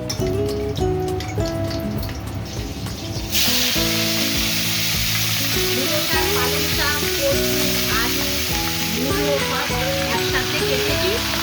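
Panch phoron, a bay leaf and small chillies fry in a wok with a loud, steady sizzle and crackle that runs the whole time, over background music.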